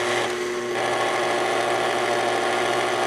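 A large dough mixer, newly re-greased after repair, runs with a steady noisy mechanical drone and grinding hum, close and continuous with no talk.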